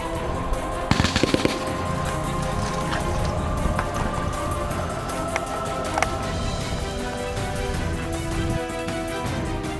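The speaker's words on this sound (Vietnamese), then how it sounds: "tích cực nổ súng, ngăn chặn địch đột nhập" Rapid gunfire crackles continuously through an infantry company's army training exercise on flat terrain cut by canals, dense bursts and single loud shots layered over a steady roar with no talk.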